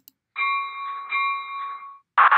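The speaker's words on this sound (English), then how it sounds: "I like the bell." A small electronic bell on a Lionel toy train set chimes in a sustained ringing tone, briefly repeating, then a short louder burst of sound cuts in at the end.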